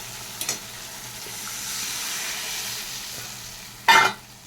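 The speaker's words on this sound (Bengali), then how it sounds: "আমি জল দিয়ে দিচ্ছি।" Half a cup of water poured into a pan of sizzling, well-fried spice paste for Bengali sour dal, giving a steady broad hiss with a sharp splash burst near the end and a small clink early on.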